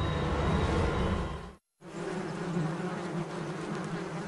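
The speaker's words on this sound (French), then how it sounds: "Des escadrons de guêpes carnivores prennent leur envol." Dense buzzing of a swarm of carnivorous wasps taking flight, a loud continuous drone broken by one brief cut to silence before the buzzing resumes.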